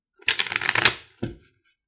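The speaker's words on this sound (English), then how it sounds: "Do one more shuffle." An Everyday Witch tarot deck being shuffled by hand: a close riffle of rapid card flutter lasting about half a second, then a short second burst of cards settling, alone without talk.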